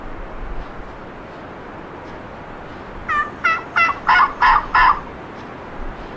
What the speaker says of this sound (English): I just heard another one gobbling to my left.